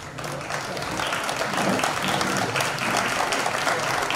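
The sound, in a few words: audience applause welcoming Hashim Khan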